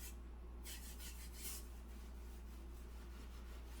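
Coarse steel wool rubbed across the wooden surface of a bed storage chest being refinished, a few quick bright scratchy strokes at first, then a quieter steady rasping, close up with a low hum underneath.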